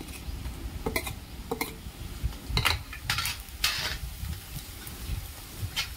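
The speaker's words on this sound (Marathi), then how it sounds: "आता त्यात हे वाटण घालून घेऊ" Ground spice paste being stir-fried for a street-style paneer sabzi, a low crackling sizzle under scattered scrapes and taps of a spoon against the pan, close by and moderately quiet.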